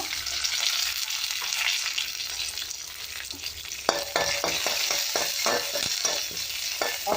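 A tempering of spices, coriander seeds, garlic, curry leaves and peanuts fries in hot oil, producing a continuous bright sizzle, with a run of quick scraping, clinking stirs in the second half and no speech.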